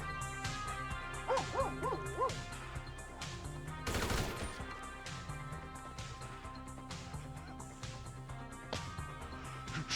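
Rapid bursts of gunfire in Grand Theft Auto V crackle over a dense, busy soundtrack, with one especially loud blast partway through.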